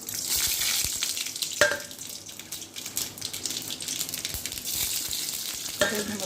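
Mustard seeds and urad dal frying in hot oil in a pan for a kovakkai poriyal, a dense crackling sizzle that runs throughout, with sharp pops and a couple of brief scraping clicks.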